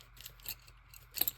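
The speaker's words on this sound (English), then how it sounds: "And now I must get my scissors." Scissors snip through paper for a junk journal, two quick quiet cuts spaced about a second apart with no voices.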